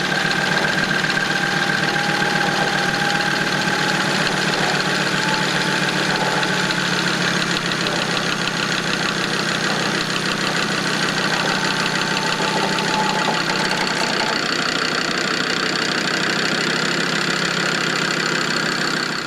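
An electric winch pulling an off-road car runs as a loud, continuous mechanical whir and engine-like drone for the whole stretch, with no talking.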